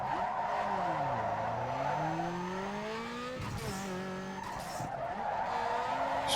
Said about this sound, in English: Just grab a little bit of e-brake there to swing the ass end of the car around.